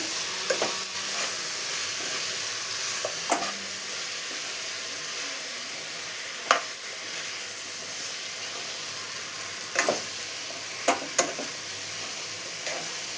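Ginger garlic paste fries in a brinjal and chickpea curry, a soft continuous sizzle and hiss broken by occasional sharp clinks of a stirring spoon against the pan.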